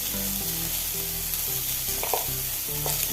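Ivy gourd thoran sizzling in a pan as it is stirred after salting, a dense steady frying hiss with repeated scraping strokes of a spoon, no voices.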